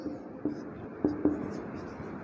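Handwriting on paper, likely pen or chalk strokes, forms a faint scratchy rhythm with a few sharper taps, set in a quiet classroom-style room with low background hum and no speech.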